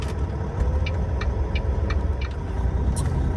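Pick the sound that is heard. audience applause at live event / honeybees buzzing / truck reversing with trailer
truck reversing with trailer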